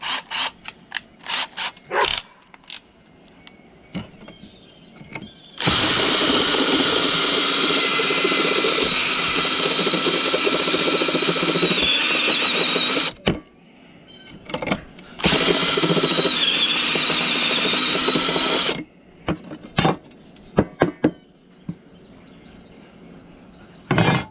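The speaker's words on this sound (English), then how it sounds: "we're going to take a step bit and make the hole larger so that the bolt will fit through it" A power drill fitted with a step bit whines loudly for several seconds, enlarging a hole for a bolt; a short pause follows, then a second long burst, with scattered clanks and handling knocks before and after.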